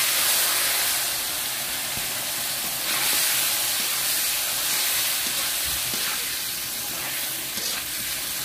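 Fish frying in hot oil mixed with salt and turmeric on a stove, a continuous crackling sizzle and hiss that stays close and fairly steady throughout, with occasional small pops.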